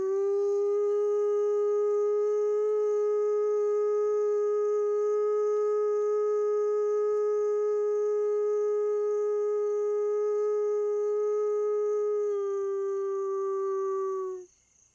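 A single wolf in a park holds one long, unbroken howl at a steady pitch, clear and sustained, dipping slightly near the end before it cuts off.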